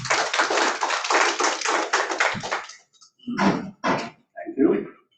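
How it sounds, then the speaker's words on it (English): A small audience at a hybrid solar-energy webinar claps to welcome a speaker. Dense, close hand claps run for about two and a half seconds, then trail off into a few separate bursts with silent gaps between. "Ladies and gentlemen, please welcome with a round of applause, Mr. Dolitha Pereira."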